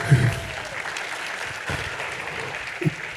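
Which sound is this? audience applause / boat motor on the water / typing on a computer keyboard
audience applause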